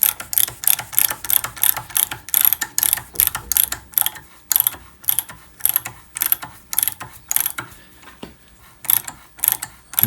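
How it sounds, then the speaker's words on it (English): Threads are hand-tapped into freshly drilled holes on a drill press ballnut mount, giving a close, repeated ratcheting click in short rhythmic bursts with brief pauses between turns. "And now I'm just hand tapping them."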